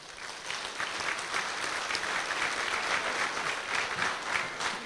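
A large audience at a closing ceremony in a Chennai hall applauds a speaker named Nehru, producing a dense, continuous wash of clapping that holds steady for several seconds with no voices above it.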